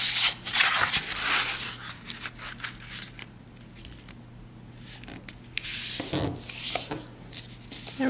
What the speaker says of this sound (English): I'm going to fold in each of the flaps to the center.